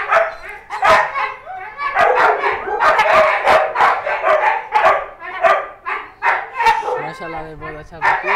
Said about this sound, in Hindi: ये आपका नन्ना सा क्यूट सा पपी, इसको देखें